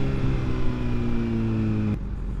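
A car engine roars loudly and close for about two seconds with a steady, strained tone, then cuts off abruptly as the car moves past, leaving quieter background noise.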